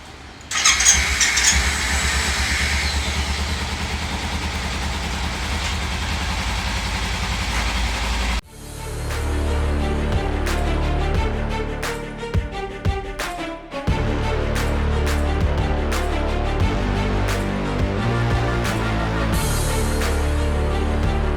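A motorbike engine idles steadily after a cold start, a continuous near rumble that runs unbroken with a few brief squeaks and clicks on top, and no one speaks.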